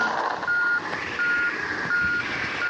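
Truck backing into a parking spot in Truckers of Europe, a rhythmic series of high reversing beeps repeating at even intervals over a low engine drone.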